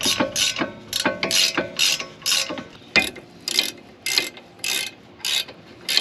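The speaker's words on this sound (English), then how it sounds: "Let's bolt this back up just like we unbolted it." A hand ratchet drives bolts back into a car's brake caliper, a close, loud run of rhythmic clicking strokes in short bursts with brief pauses between them.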